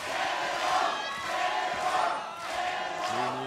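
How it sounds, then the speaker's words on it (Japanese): A packed crowd at a Pro Wrestling NOAH match at Korakuen Hall roars and cheers continuously, a dense wall of many voices with swells and dips. "超満員の歓声が活気していきます"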